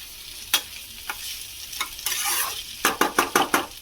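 Washed rice fried in a pan with a low sizzle under repeated spatula scrapes and stirs, a few isolated strokes at first, then a quick run of rhythmic scraping, close up.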